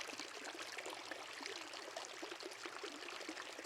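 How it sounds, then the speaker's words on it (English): Water flowing steadily at a rural property in Kuranda, Queensland, a continuous soft rushing like a stream or small cascade, faint and even throughout with no voices. "at least you can see the water flowing"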